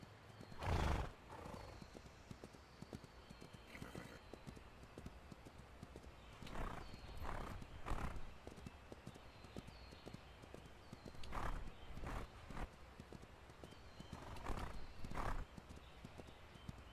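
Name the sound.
horses neighing and hooves clip-clopping in Ranch of Rivershine video game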